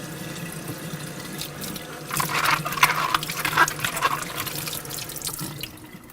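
Apples being washed under a running kitchen tap, water splashing and spattering more strongly midway as the fruit is turned in the stream, then easing off; close and moderately loud, with no speech.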